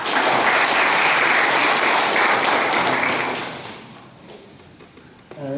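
Loud audience applause at a space-knowledge contest results ceremony in Sieradz, honouring a prize winner, fading after about three seconds, with a voice starting briefly near the end.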